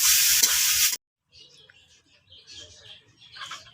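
Leafy greens hit a hot pan with a loud, hissing sizzle for about a second. The sound then cuts to a faint, scattered crackle with light stirring taps.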